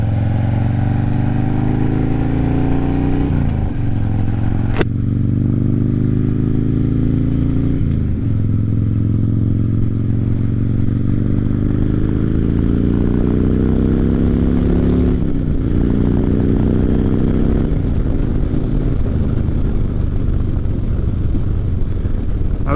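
Single-cylinder motorcycle engine with a freshly tuned carburetor and a dirty air filter, revving up hard through several gears while riding, loud and close with steady wind noise and rising engine pitch between shifts.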